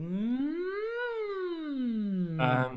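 A voice sings a vocal siren run, one smooth glide sweeping up from the low range to a high peak and back down, rich in overtones, ending on a brief brighter, breathier note.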